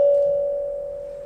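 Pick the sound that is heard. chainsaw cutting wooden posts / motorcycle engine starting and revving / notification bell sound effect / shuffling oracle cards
notification bell sound effect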